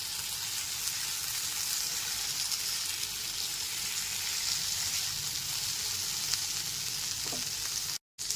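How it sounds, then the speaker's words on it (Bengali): Fried pointed gourd sizzling in hot spiced oil, a constant dense crackling hiss close to the pan, with faint stirring scrapes and a brief dropout near the end. "এরপর এর মধ্যে ভেজে রাখা পটলগুলোকে দিয়ে দিচ্ছি।"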